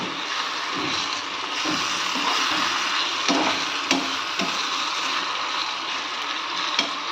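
Tomato rice stirred in a frying pan, a steady soft sizzle running throughout with scattered scraping clicks of the spoon against the pan, close and moderately loud, no voices.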